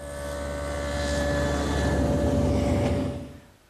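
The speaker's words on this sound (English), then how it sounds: "I've set up my table saw with a dado head cutter for a 3/4 inch width and a 1/4 inch depth" A table saw fitted with a dado head cutter, set 3/4 inch wide and 1/4 inch deep, cuts a panel. It gives a loud, near, sustained droning roar that swells and then winds down.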